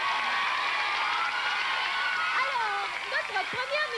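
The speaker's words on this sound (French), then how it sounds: "On les applaudit." A studio audience at a 1988 children's singing television show applauds in a steady, dense wash, with a voice speaking over the end.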